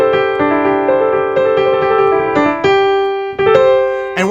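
A piano plays a simple melody on white keys, clear sustained notes changing every half second or so in an even, unhurried line, close and loud with no voices.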